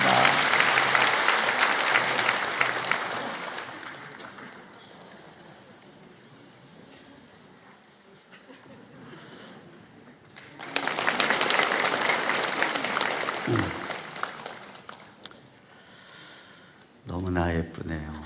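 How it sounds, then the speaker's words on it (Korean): A church congregation applauds during a Sunday worship service to bless a child, a burst of clapping that fades to quiet, then a second swell of applause follows before a voice speaks. "우리 박수로 이 아이를 축복합니다."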